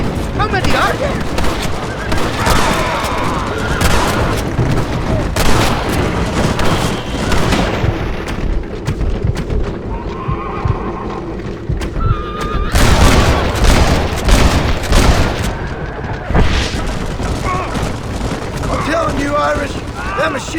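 Gunfire and explosions from a Red Dead Redemption gunfight blast almost nonstop, booming bursts with dense rattling shots swelling around the middle and continuing to the end, under in-game voices.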